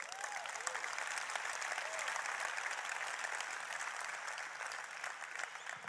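An audience claps steadily for several seconds in a dense, even wash of applause, with a few faint voices mixed in.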